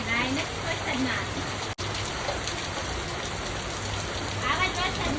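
Heavy rain pours down in a steady, dense hiss that covers the whole stretch, with faint voices at times underneath.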